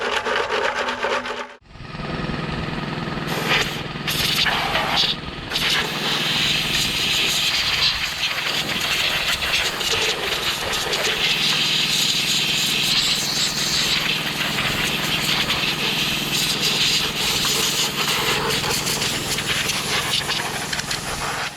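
A Honda GX340 11 HP engine on a commercial pressure washer runs continuously with a steady, loud mechanical drone after a brief drop near the start, rough and buzzing throughout with no speech.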